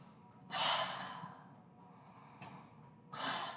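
Slow breaths in and out during a vinyasa yoga session for the stomach, two soft airy breath sounds close to the mic with quiet room tone between them, no talking.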